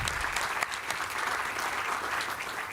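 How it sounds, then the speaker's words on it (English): Hall audience at a Teachers' Day celebration gives continuous, even applause for a guest, a thick wash of many hands clapping throughout at moderate level. "Can we have a huge round of applause for him?"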